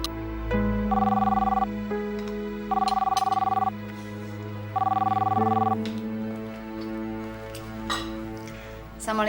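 A telephone rings indoors, three loud electronic ring bursts at a steady pace over a soft background music bed, with faint voices between rings.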